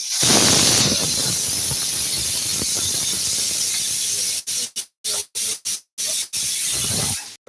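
A loud, sustained high-pitched hiss of steam from a pressure cooker whistle as chickpeas cook, cutting in and out in rapid bursts near the end.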